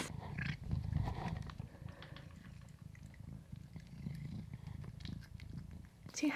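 A cat purrs close to a microphone, a low steady rumbling purr heard throughout along with rustling and handling noise.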